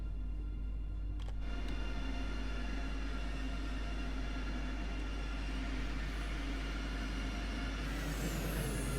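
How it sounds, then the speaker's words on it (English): An ICE 3 high-speed train braking on the Köln–Aachen line in Train Sim World, a steady low rolling hum with a brief clank early on and a rising hiss near the end, no voices. "And let's go some brakes."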